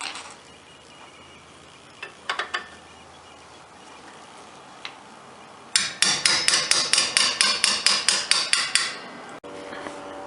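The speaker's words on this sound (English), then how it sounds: "I had to get a wrench and hammer on these bolts also because they're pretty well seized up" A hammer strikes a wrench on seized rear brake bracket bolts of a 2005 Hyundai Santa Fe 2WD. A few scattered metallic taps come first, then a rapid run of about a dozen loud, ringing blows, close and with no talking.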